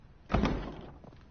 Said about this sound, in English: Damn, that's a loud door.